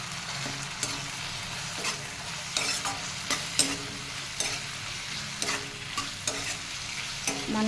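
Tomatoes frying and being stirred in a pan, village-style cooking for a dosakaya chutney: a steady close sizzle broken by repeated scraping stirs, with no voices.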